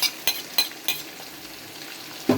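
Tofu drops into a hot pan with beef for palabok sauce, giving a few short sizzling bursts and light stirring clicks over a quiet frying hiss, close and fairly soft.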